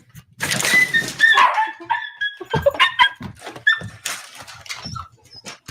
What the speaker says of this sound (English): Puppies are so cute.